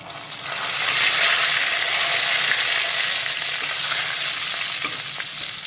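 Whole garam masala, bay leaves and a big cardamom sizzling in hot oil in a pan, a loud dense crackling hiss that swells in and holds steady for several seconds, close by, with no talking.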